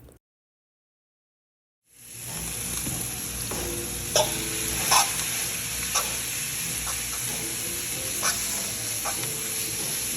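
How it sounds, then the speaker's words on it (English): Steak sizzles in hot oil on an indoor grill, seasoned only with garlic powder, giving a steady close frying hiss with a few louder pops and crackles after a quiet start. "Now I like to just let it sizzle a little bit with just the garlic powder to get those juices out."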